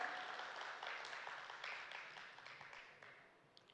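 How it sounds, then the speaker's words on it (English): An audience at an Indo-French investment conclave in Madhya Pradesh applauds to welcome a French ambassador, a steady, soft, distant wash of many hands clapping that slowly fades toward the end. "May we request you all to kindly welcome him with a huge round of applause."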